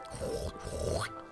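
A pig in Minecraft lets out a couple of short, nasal grunts in quick succession, fairly quiet and isolated with little else around them.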